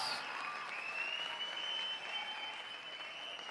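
A church congregation applauds during a birthday anniversary service, a steady wash of many hands clapping that stays dense and even throughout before easing slightly near the end.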